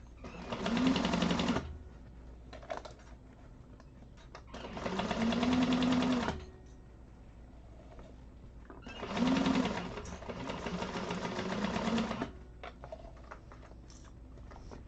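An industrial sewing machine stitches a tote bag in three fast, loud bursts of a few seconds each, separated by quieter pauses with faint handling noise.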